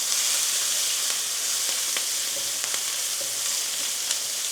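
Ginger and green chillies cooking gently in oil for samosa filling, making a steady, close hiss of sizzling with faint stirring clicks and no talking.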